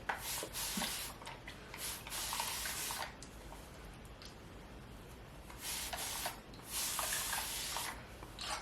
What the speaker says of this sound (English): So I'm just going to spray it a little more with some water